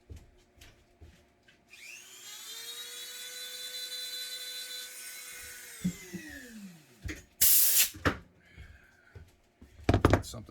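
A small rotary tool whines up and spins steadily for a few seconds as it roughs up a surface before epoxy goes on, then winds down, followed by a few knocks and rubbing handling sounds.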